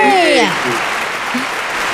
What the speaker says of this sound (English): full room of applause